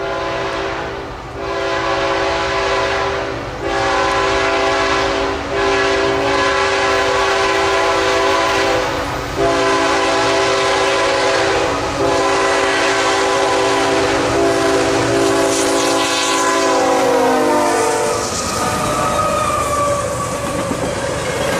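Southbound intermodal freight train Q031 passes close by in Folkston, Georgia, its horn sounding long and loud over the steady roll and clatter of the wagons.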